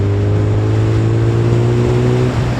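A Suzuki Bandit motorcycle engine, restricted to 34 hp, hums steadily at low revs around 40 km/h, then the throttle opens and the engine note rises smoothly, close and loud, with no talking.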